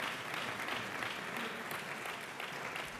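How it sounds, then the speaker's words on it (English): Banquet audience applause at an alumni awards conference dinner, a continuous, even wash of many people clapping, fairly quiet and steady throughout. "Let's give another round of applause to our faculty and all of today's incredible speakers"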